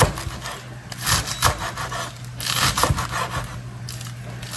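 A knife chopping green onions into small pieces on a cutting board, with repeated irregular scraping, crunchy cuts throughout, close and steady.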